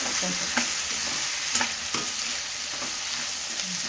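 Carrot and potato pieces fry steadily in a pan for a jowar upma, a constant sizzle with a few scattered clicks of stirring, close and fairly loud, with no voices.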